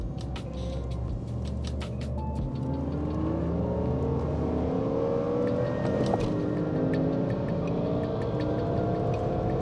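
A BMW M3 E92 with a V8 engine accelerates, its loud, steady engine note climbing in pitch as the revs rise, heard from close by.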